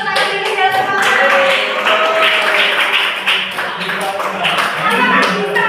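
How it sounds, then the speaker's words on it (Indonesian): Classmates clap their hands together for a fellow student in a classroom, a lively, close burst of many hands with children's voices mixed in. "Tepuk tangan dulu ya teman-teman."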